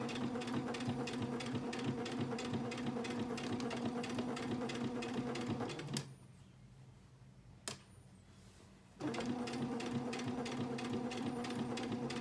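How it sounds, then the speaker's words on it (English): A sewing machine stitches binding onto a quilt with a steady, close mechanical whir, pauses for a few seconds with a single click, then resumes stitching at the same even pace. "take a few stitches forward, and then let's go back, gosh darn, let's go back and back stitch."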